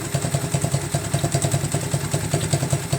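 A motorcycle engine runs at a steady idle, its low rhythmic chugging and clattering pulses repeating evenly and close by.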